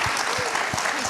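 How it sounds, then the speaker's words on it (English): Brief burst of audience applause at a Mac admin conference expert panel, loud and dense clapping from many people filling the whole moment without pause. "Can I ask you to give a big hand of applause?"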